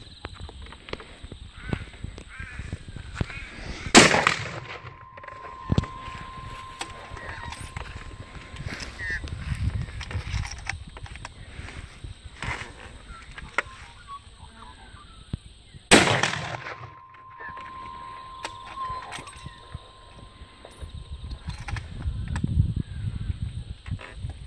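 A Winchester Model 70 .270 rifle fired outdoors, with two loud sharp cracks well apart and a ringing tail after each, over a noisy background with faint speech.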